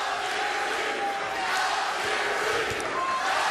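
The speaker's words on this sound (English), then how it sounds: "And you hear the crowd" A boxing arena crowd roars during a pro fight, a loud continuous wall of cheering and shouting, with a commentator talking over it.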